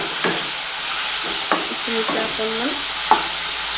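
Masala with cumin powder frying in a pan, a steady close sizzle with a few stirring scrapes, while a person speaks briefly over it.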